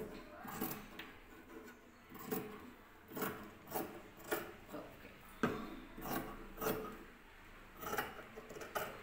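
Scissors snip through saree fabric while a blouse sleeve is cut, giving a series of short, crisp rasping cuts repeating every second or so at close range, with no talking.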